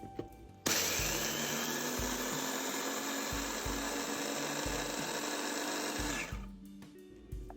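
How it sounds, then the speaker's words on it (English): Small food processor grinding Oreo cookies into crumbs, a loud whirring motor roar that starts abruptly, holds steady for about five seconds, then cuts off, with light rattling in the bowl. "I'm just going to use this food processor right here"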